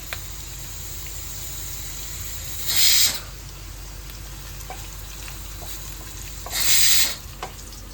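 Coconut pieces fry in a pan with a steady close sizzle, broken by two loud hissing bursts and a few faint clicks of stirring.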